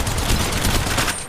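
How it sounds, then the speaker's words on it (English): Rapid automatic gunfire from the mobile battle royale game Apex Legends Mobile, a loud, dense burst of overlapping shots that runs continuously and then cuts off near the end. "The enemies are shooting at me!"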